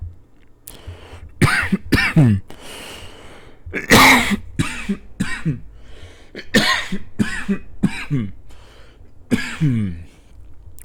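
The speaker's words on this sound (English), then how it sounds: "I'm coughing like hell." A man coughs hard over and over, up close, with harsh hacking bursts and throat clearing spread across several seconds and short breaths between fits.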